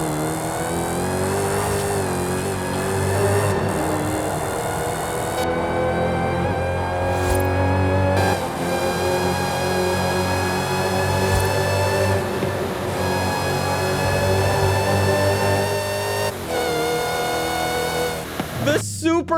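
A loud supercharged car engine in Forza Horizon 5 revs hard and holds a high, sustained supercharger whine from around 5,000 RPM, rising in pitch as it accelerates with a voice talking over it.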